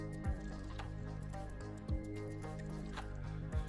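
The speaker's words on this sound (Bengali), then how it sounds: "প্রায় 1 মিনিটের মতো এইরকম নাড়াচাড়া করে আমি ভালো মতো মিশিয়ে নিলাম" Cake batter of one egg and a cup of flour being stirred in a bowl, soft wet squishing strokes recurring every couple of seconds, faint and close, with a low steady hum behind.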